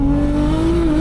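Nissan R32 GTR on the move with its rear wheels slipping, a loud steady engine drone holding one pitch throughout with a rough, gritty edge.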